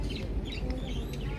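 Lovebirds call over a low rumbling background, their brief chirps rising now and then through the short stretch, fairly faint and close by, during a tea break on a Darjeeling tour.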